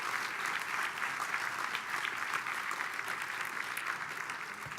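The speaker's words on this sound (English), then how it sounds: "One more round of applause." Gala audience applause fills the room, a sustained dense wash of clapping from many hands that holds steady throughout.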